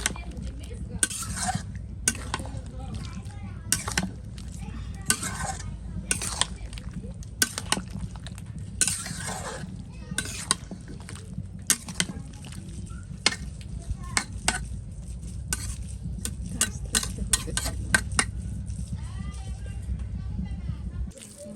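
A spoon or spatula stirs and mixes food with added spice powder in a metal pan, producing repeated scraping and clinking strokes over a low sizzle, steady and close for a long stretch.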